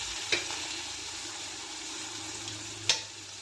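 Chili paste, garlic paste and turmeric sizzle steadily in hot oil with cumin, with two distinct clinks of a spoon against the pan as the mixture is stirred; quiet and close.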